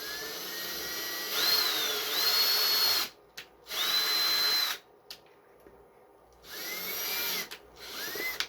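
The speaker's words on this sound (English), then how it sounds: "I lined up the pods with the shell to drill pilot holes" A power drill bores pilot holes through pods into a habitat module shell, whining up and down in several bursts of a few seconds each, with short quiet gaps between them and no talk.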